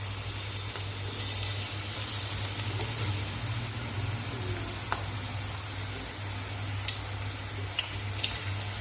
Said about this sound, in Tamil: ராகி பக்கோடாவுக்கு சும்மா கொஞ்சம் கொஞ்சமாக சின்ன சின்னதாக கிள்ளி கிள்ளி போட்டுக்கலாம்